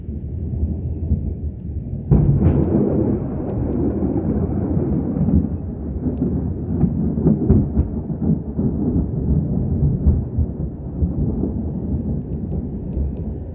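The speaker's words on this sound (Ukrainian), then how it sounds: "за 7 років життя в Мічигані я вперше чую такий грім" Thunder during a storm on a hot day in Michigan breaks with a sudden loud crack, then rolls on as a heavy, sustained low rumble with fluttering surges.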